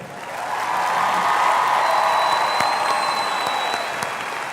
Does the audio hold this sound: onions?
no